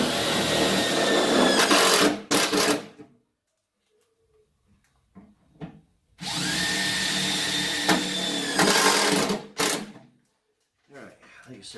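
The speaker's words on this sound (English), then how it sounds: "just stop right before so you're not like impacting these screws in" A power tool drives screws into a pickup truck tool box mounting platform in two long, loud, close whirring bursts separated by quiet gaps, with brief speech around them.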